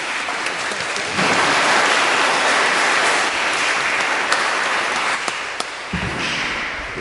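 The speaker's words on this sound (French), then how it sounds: "On peut les applaudir, bien sûr." A church congregation at a morning mass applauds the singers and the musician, a loud, full round of clapping that swells after the first second and then thins and tapers toward the end.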